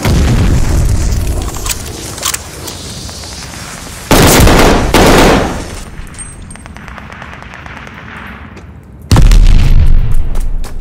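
Glide bomb strikes in the Call of Duty Vanguard video game, heavy explosion blasts arriving in separate loud bursts, two close together midway and another near the end, over a layer of gunfire and battle noise, with no speech.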